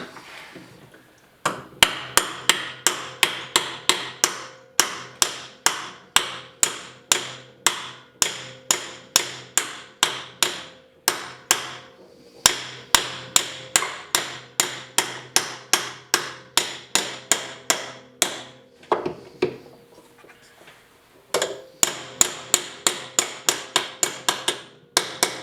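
Repeated hammer blows drive a spiral cutterhead into a Dewalt DW735 thickness planer, loud close metallic strikes in fast steady bursts separated by brief pauses, with no talking.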